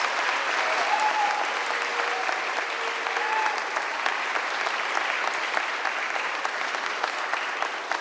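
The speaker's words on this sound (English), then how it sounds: "Please join me in a round of applause for perfect honors." An audience at a middle school 8th grade awards ceremony applauds steadily, a dense wash of claps holding at an even level for about eight seconds with no one speaking.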